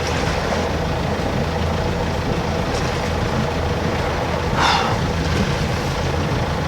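Boat engine idling steadily on a sailboat at launch, raw water pumping out the exhaust; a continuous low rumble fills the clip with a brief hissing splash near the end, no talk.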